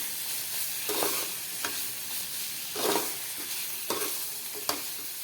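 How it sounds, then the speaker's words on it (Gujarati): A spoon scrapes and stirs cabbage sambharo with salt and turmeric in a sizzling pan, soft rhythmic strokes over a steady frying hiss, close and moderately quiet, with no talking. "હળદર અને મીઠાને આપણે બરાબર મિક્સ કરવાનું."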